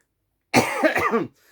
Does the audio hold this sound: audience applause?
no